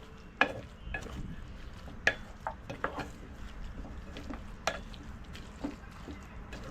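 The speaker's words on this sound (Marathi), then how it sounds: "आता परत दहा मिनिट परतून घ्यायचं" Grated carrot halwa cooking in milk is stirred in a pan, a faint low bubbling fry under scattered sharp scrapes and clicks of the spoon at irregular intervals, close by with no voices.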